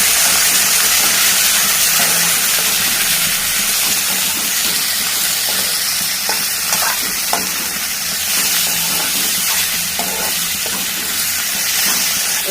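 Cluster beans stir-frying with turmeric in a hot pan give a loud, steady sizzle and hiss, with occasional scraping stirs throughout.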